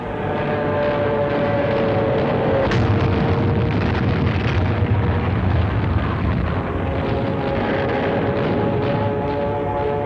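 Kamikaze planes dive and explode on U.S. Navy ships off Okinawa in 1951 wartime newsreel footage: a dense, loud roar of aircraft engines and blasts, with a sharp burst near the middle and no voices.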